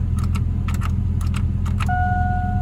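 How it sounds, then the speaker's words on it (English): A soft electronic chime from a car instrument panel sounds once near the end, after a few light clicks and jangles, over a low idling engine hum. "you will hear a ding from the instrument panel"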